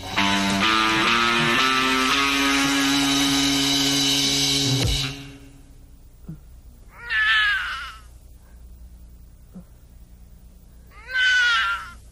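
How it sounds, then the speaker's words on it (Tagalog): A cat meows twice, two distinct drawn-out cries separated by several seconds of quiet, following a stretch of sustained music that fades out. "Pusa lang pala."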